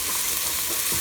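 Ginger garlic paste fries in a hot pan for restaurant-style butter chicken, an even, bright hiss of sizzling with a soft stirring scrape near the end, brief and close.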